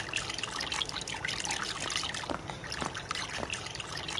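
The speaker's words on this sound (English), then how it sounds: "The faucet does the Morse code." Water from a faucet in the game Dreams trickles and drips steadily across the whole stretch, with a few louder plinks standing out in an irregular long-short pattern. No voices.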